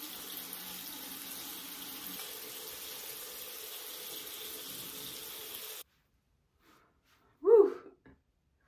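Tap water runs steadily into a sink while a face is rinsed, a fairly faint, even wash of water lasting several seconds before cutting off, followed by a brief quiet vocal sound.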